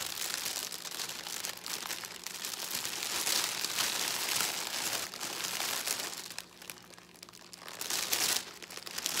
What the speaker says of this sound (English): I'm gathering at the top and in the center all the pieces of the cellophane, kind of folding the edges in